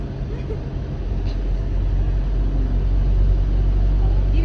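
A bus travelling along a highway gives a steady, close low engine and road rumble throughout, with people speaking over it.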